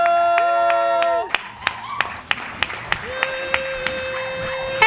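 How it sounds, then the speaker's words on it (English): Sparse, scattered claps from a small live-show audience welcoming comedian Amanda Lynn Dio, spaced single hand claps rather than full applause, heard over a steady sustained musical tone that drops out and returns. "Start clapping, start clapping, start clapping."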